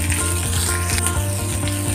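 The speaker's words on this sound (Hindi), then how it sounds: "प्याज को 1 से 2 मिनट भूनने के बाद" Onions fry in a hot pan for stuffed masala idli with kara chutney, giving a steady, close sizzle that runs without a break under a low, continuous hum.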